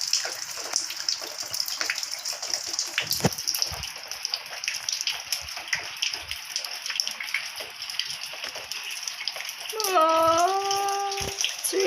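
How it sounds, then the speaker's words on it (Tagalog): Heavy rain pours and splashes inside a house, a steady hiss of water falling hard on surfaces, joined near the end by a short rising tonal whine. "Oh, it's raining inside out."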